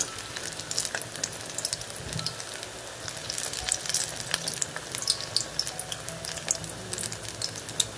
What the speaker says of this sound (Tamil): இந்த மாதிரி கோல்டன் கலர் வர வரைக்கும் ஃப்ரை பண்ணுங்க